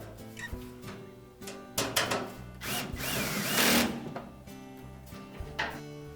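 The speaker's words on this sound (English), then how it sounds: "secure it with screws on either side" A power drill drives screws into the back panel of a Frigidaire washer, with several short whirring bursts close by and a longer sustained run near the middle.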